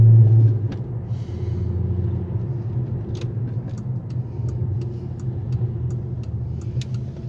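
Golf 4 V6 24-valve 4motion engine heard from inside the moving car, a steady low rumble held at an even level, with light rattles and clicks from the cabin.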